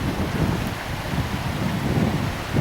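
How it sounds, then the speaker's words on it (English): Steady, chilly wind blowing by the River Erne, roaring continuously across the microphone as a full low rumble with no talk, loud and close throughout. "I hope you can hear me above that wind blowing quite chilly in my neckline"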